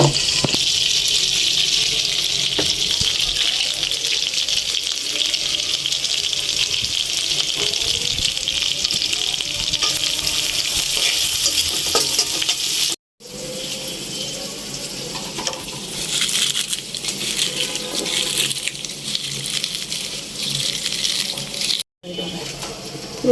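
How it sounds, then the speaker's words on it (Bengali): Prawns frying in hot oil in a home kitchen give off a loud, steady broadband sizzle that runs continuously, broken by two brief silent cuts. "চিংড়িগুলো ভাজা হয়ে গেছে, এখন আমি এখানে আর একটু তেল দিয়ে দিব।"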